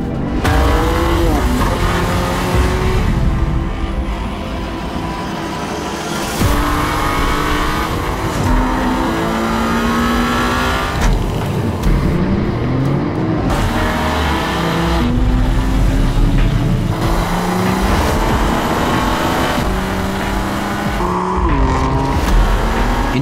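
A BMW M4 Competition sports car in a special KITH edition drives hard, its engine revving and shifting loudly and continuously with tire squeal amid a dense, busy mix that may include music.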